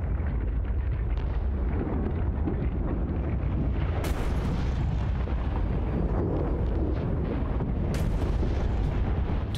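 Explosions in the video game Subnautica: Below Zero make a loud, continuous rumbling roar punctuated by two sharp cracking bursts, with no one speaking.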